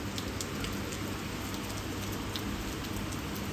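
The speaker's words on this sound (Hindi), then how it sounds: "ये देखो मूसलाधार बारिश जिसको बोलते हैं ना, वो हो रही है ये।" Heavy rain pours steadily, a dense continuous hiss of falling water with no voices, constant and fairly loud throughout.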